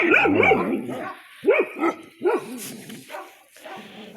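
Dogs bark loudly and close, with a rapid cluster of barks and yips at the start followed by several separate, spaced barks and a few softer whimpers.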